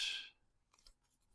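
A single sharp snip at the start as a wooden clothes pin is cut, followed by faint small handling clicks and rustles.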